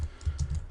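Computer keyboard typing while posting a scrap-banking trade message for Team Fortress 2, a short burst of several soft keystrokes close by with no talk.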